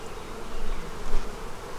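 Honey bees buzz steadily at an open beehive during an inspection of a weak colony, a dense close hum with small swells in loudness and no voices.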